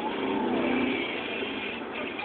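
A car driving along a road heard from inside the cabin: a steady, even wash of engine and tire noise with no breaks, moderately quiet and unchanging throughout.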